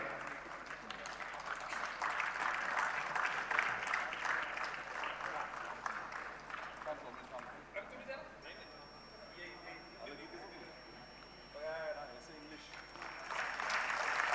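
Audience applause at a prize-giving ceremony, a sustained crowd clapping that swells and eases over the stretch, with a voice speaking over it at times.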